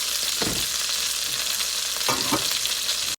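Milkfish fries in a pan with a loud, continuous sizzle, broken by two bursts of scraping and knocking as the fish is rolled and turned.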